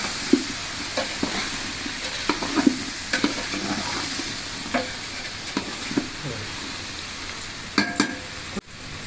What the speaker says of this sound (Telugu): ఉప్పు కారం మసాలా అంతా కూడా ఈ ముక్కలకి కొద్ది ఇలా అన్నది వేగి చేద్దాము వేగనిద్దాం